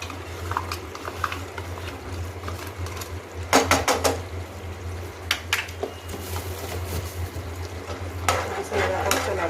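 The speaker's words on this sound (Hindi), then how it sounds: "अब लगातार इसे भूनूंगी चलाते हुए" A curd mixture being stirred and roasted in a pan over medium-high flame for a Navratri fasting dish, with intermittent scraping and clinking of a spoon against the pan over a steady low hum; no talk.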